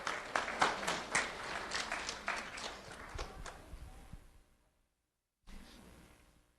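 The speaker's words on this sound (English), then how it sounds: "Round of applause for Melissa Suarez." Scattered audience clapping for a student award recipient at a sheriff's office ceremony, moderately loud at first, then fading out before a cut to a quieter stretch of room noise.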